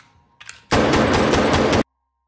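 Shots ring out in a film about a bank robbery by a former special forces soldier: one loud, close burst of rapid-fire gunshots lasting about a second, after a brief faint noise, then sudden silence.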